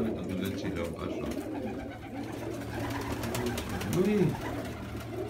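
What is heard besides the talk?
pigeons cooing in a dovecote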